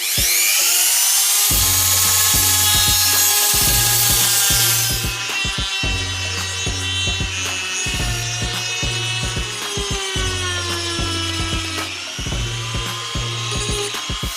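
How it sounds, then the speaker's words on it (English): A high-pitched Dremel with a sanding bit whines loudly and grinds plastic on a GoPro Hero 7 in repeated bursts, pausing briefly between passes, with a harsh, gritty buzz as it works. "I'm just going to use the Dremel tool here with a sanding bit to tidy up the rest of it"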